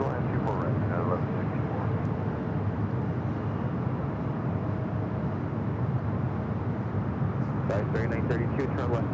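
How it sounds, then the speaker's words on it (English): A United Airlines Boeing 737-900ER arriving from SFO lands at LAX, its steady distant jet rumble and wind roar continuous and fairly faint, with speech over it. "United Airlines flight 1164, coming from SFO, a 737-900 ER"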